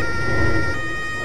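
Ambulance siren in the Roblox video game, loud, steady and close, filling the whole short moment with no talking.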